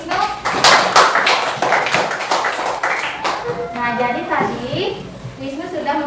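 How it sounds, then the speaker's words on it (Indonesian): Schoolchildren in a fourth-grade classroom clap together in a quick burst of scattered hand claps and taps, with kids' voices and a teacher speaking through and after it. "Tepuk tangan dulu untuk"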